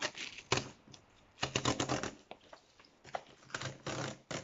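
A mail parcel being opened by hand, with bursts of crackly tearing and rustling of cardboard and packing material coming in quick clusters, close and fairly loud, with no talking.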